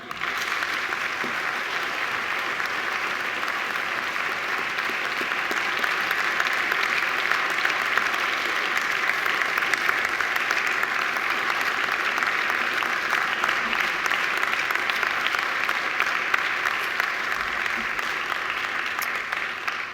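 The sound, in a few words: graduates' round of applause for family and friends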